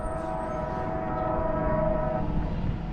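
An ALC42 locomotive sounds its horn on a mainline, a sustained chord held steadily over the rumble of the train, fairly close and loud throughout.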